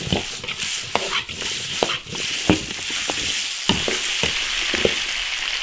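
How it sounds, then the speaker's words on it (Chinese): Beef tendon stir-fried in an iron wok with ginger, garlic and chili sauce, a continuous close sizzle punctuated by repeated scraping spatula strokes at an uneven rhythm. "生姜大蒜，辣椒酱炒香，炒出红油下牛筋"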